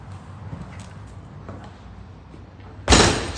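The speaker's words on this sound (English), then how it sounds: "did you hear that and see the reflection of the door closing in the glass in front of me?" A door closing at City Hall, a single sharp thud near the end after a stretch of quiet room ambience.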